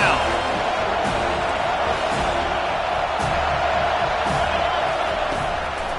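Home crowd at a football game roaring and cheering throughout as the defense faces third down, a broad sustained stadium din with occasional whoops and sharp claps, heard loud and alone.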